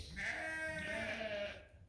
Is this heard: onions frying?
no